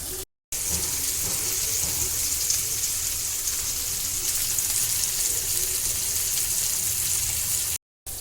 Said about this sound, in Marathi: आता पाच मिनटं याला खालच्या बाजूने फ्राय करून घेऊया गॅस मी मीडियम आचेवर करत आहे